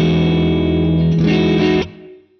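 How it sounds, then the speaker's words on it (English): A heavily distorted bass tone through an amp simulator, a thick sustained buzzing note with a shift partway through, loud and close, then cut off and fading into a short tail. "And then I've got the really distorted kind of sound."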